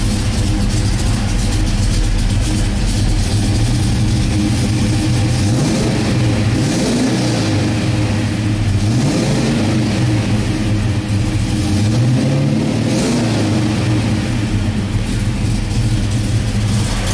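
A deep, rumbling 1970 Plymouth Road Runner V8 with dual exhaust idles steadily, with the throttle blipped into several short revs that rise and fall before settling back to a low burble.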